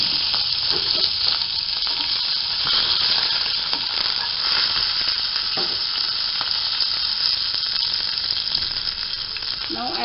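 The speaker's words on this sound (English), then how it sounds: "I will add the mustards and curry leaves." Mustard seeds and curry leaves sizzle in hot oil as a steady, close, bright hiss that holds evenly throughout, with faint crackles scattered through it.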